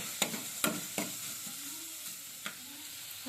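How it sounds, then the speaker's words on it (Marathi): Onions frying in a pan until soft for a light soup give a steady bright sizzle, broken by a few sharp scraping stirs near the start and one more later. "हा कांदा आपल्याला चांगला मऊ सूप होईपर्यंत फ्राय करून घ्यायचा आहे"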